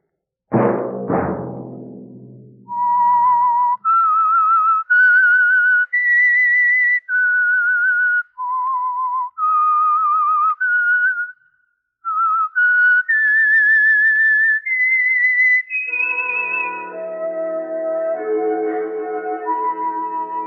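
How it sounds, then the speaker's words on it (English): The whistled theme of The Whistler radio program: a solo melodic whistle, sustained notes rising and falling in a slow eerie line, clear and close, opened by a bell-like strike and ending under a soft orchestral chord. "Let that whistle be your signal for the Signal Oil program, The Whistler"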